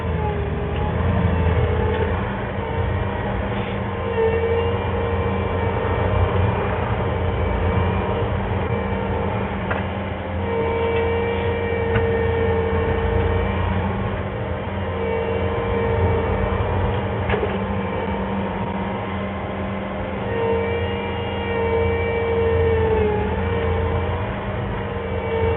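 A tracked machine drives over a gravel driveway, grinding the gravel under the front of its tracks. A steady engine drone mixes with scraping, crunching noise and faint squeaks close by, continuing throughout.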